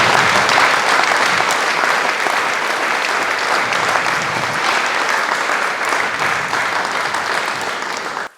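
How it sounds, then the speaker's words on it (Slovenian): A concert audience at a traditional summer show by the CZR Domžale men's choir and guests breaks into big, sustained applause, a dense wash of clapping that holds steady for about eight seconds before cutting off. "si zagotovo zaslužijo en ogromen aplavz"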